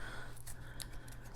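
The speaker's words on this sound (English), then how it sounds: "scissors and cut the yarn" Scissors snip through yarn for a pom-pom, a few quick, faint, crisp cuts close by over a quiet background.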